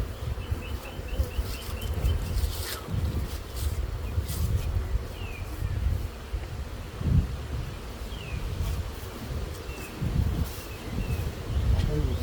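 Bees buzz around a moved swarm hive in a soft, continuous hum, with a few individual bees flying past close by, over faint outdoor rustling.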